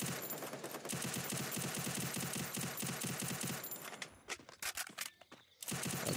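Rapid automatic gunfire from the battle game Free Fire in a Clash Squad match, dense continuous bursts for several seconds, then scattered single shots and short volleys with brief gaps before the firing resumes loudly.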